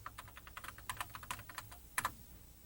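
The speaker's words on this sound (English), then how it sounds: "This time we'll open it by typing a command in a command window." Keys clack on a computer keyboard as a command is typed in a command window, a quick irregular run of soft, close taps with a couple of louder strokes near the end, no talk.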